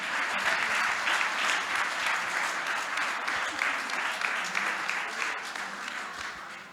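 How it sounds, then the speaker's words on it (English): Sustained audience applause fills a gala hall honoring a charity kitchen's sous chefs, dense and steady clapping from a large crowd at close range, holding loud throughout before easing slightly at the end. "One more big round of applause for our super sous chefs, Miriam's Kitchen"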